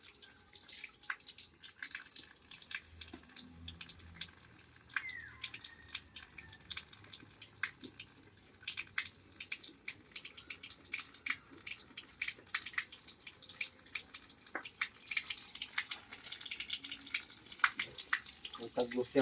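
Water leaks and drips for a long stretch, with irregular splashes and a trickling, tap-like flow at close range, while people talk nearby.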